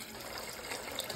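Water pours from a tap into a cooking pot of papaitan, a steady close splashing rush that runs the whole short moment without pause.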